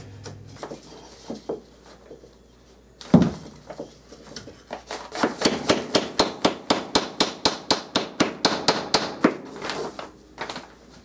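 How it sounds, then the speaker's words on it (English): A long run of sharp, regular hammer blows on a wooden sole plate during a bathroom remodel, about twenty evenly spaced strikes after a few scattered knocks and a louder thump, close and loud. "I want to hammer on that side that has more meat on it"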